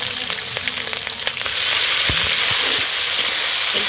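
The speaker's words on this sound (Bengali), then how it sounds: "পেঁয়াজ কুচি আর কাঁচা লঙ্কা দিয়ে দিলাম" Chopped onion and green chili sizzle loudly in hot oil with whole spices like cinnamon, bay leaves and cumin seeds for a kidney bean chicken dish, a steady hiss swelling louder midway with a few utensil knocks.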